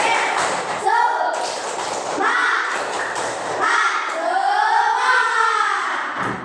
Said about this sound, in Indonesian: Sekarang sebelum belajar kita tepuk semangat dulu.